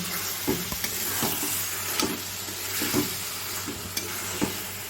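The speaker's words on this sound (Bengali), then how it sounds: "কচু শাকটা প্রথমে সিদ্ধ করে নিয়েছি, তারপর মশলা দিয়ে এই যে কষানো হচ্ছে।" Boiled taro leaves, with chickpeas, coconut and spices, sizzle steadily in a pan while being sautéed, with regular stirring scrapes throughout, close and continuous.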